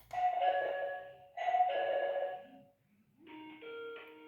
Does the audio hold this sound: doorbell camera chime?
yes